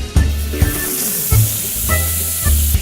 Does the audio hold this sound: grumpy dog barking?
no